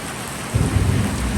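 Steady rain drums on corrugated iron roof sheets as a dense, close hiss of raindrops, with a heavier low rumble joining partway through and no voices.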